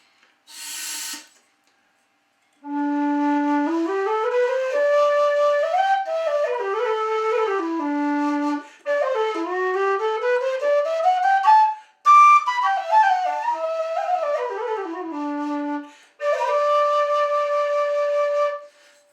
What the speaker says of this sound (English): this is what I've actually based all of my Kerry Pros on, is this whistle that I had him make